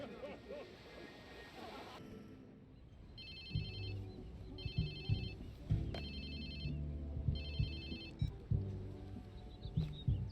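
In the Watch Dogs 2 video game, a mobile phone ringtone sounds in repeated electronic trill bursts, four rings at even intervals, over a low rumbling ocean-side boat ambience with occasional thuds.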